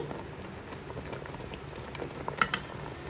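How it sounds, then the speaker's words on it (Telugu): Palathalikalu, rice dumplings simmering in a pot on the stove, bubble softly and steadily, a faint close patter of boiling liquid with a few sharper pops near the end. "ఇప్పుడు ఈ తాలికలు కొంచెం ఉడికాయి"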